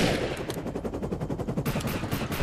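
Automatic gunfire in the video game Defiance during a Hellbug boss fight, a fast, loud rattle of close shots that holds for about two seconds.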